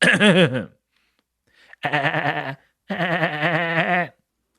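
A man vocally imitates a cartoon character's power-up cry from Dragon Ball Z, producing three strained, wavering bleat-like yells, the first short, then two longer ones after a pause.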